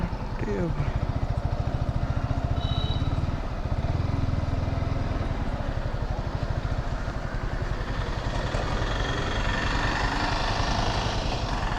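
A Yamaha R15 V4 motorcycle engine runs steadily on a long solo ride, a continuous low throbbing drone mixed with wind rush that stays loud and close throughout.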